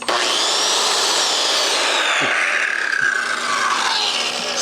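A circular saw runs on a Bluetti portable power station, very close to the microphone. A loud, harsh motor whine spins and shifts in pitch for a few seconds, with no one speaking.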